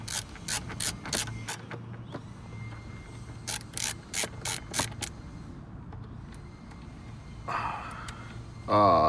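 Two screws are backed out of the ashtray in a BMW E39, giving a close run of quick ratcheting clicks in bursts, then a second series, with a little handling noise and breathing, no talk.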